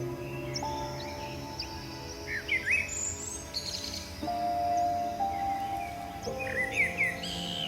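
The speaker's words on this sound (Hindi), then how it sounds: "बाया वीवर अपनी घोंसले बनाने की कला के लिए बहुत प्रसिद्ध है" Baya weaver birds calling in green Indian countryside, a mix of short chirps, tweets and buzzy trills at moderate distance over a soft rustling background, with no voices.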